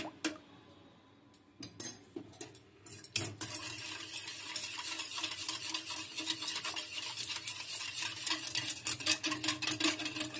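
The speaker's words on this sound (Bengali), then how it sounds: "এবার সব উপকরণগুলো ভালো করে মিশিয়ে নিচ্ছি।" Ingredients for matar dahi vada being mixed with water in a bowl, starting with a few separate clinks and scrapes, then a rapid rhythmic run of wet stirring and spoon-on-bowl clatter close by, no voices.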